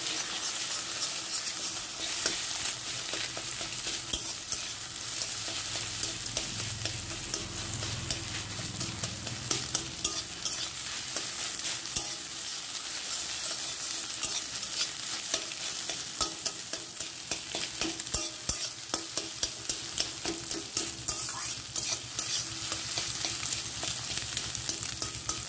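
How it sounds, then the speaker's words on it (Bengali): Two eggs frying in a little mustard oil with salt in a pan, a steady bright sizzle with intermittent scraping and stirring as they are scrambled, close and without talk. "ডিম দুটোকে আমি ভুজিয়া বানিয়ে নেবো, তার জন্য একটুখানি সর্ষে তেল দিয়েছি"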